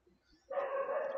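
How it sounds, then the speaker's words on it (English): An angry dog lets out a single sustained bark-growl that starts abruptly partway through and holds steady until the end. It sounds moderately close, with no talk over it. "Can you hear that dog? That's one angry dog."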